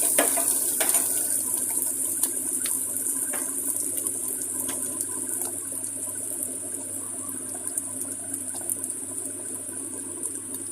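Onions fry in a pan for an okra curry cooked with milk, making a continuous, even sizzle close by with faint stirring scrapes and no talking.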